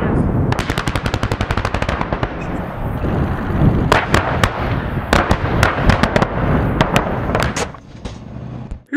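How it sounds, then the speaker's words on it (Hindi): Russian tanks and weapons firing during military exercises: loud, dense rapid bursts of gunfire with heavier booming shots mixed in, sustained throughout like a battlefield. "रूसी टैंक जब मैदान में उतरे तो हर तरफ उनकी गोलाबारी से मैदान एक वॉर जोन का मंजर पेश"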